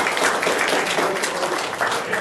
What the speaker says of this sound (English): I want to give a round of applause to all the people that helped cook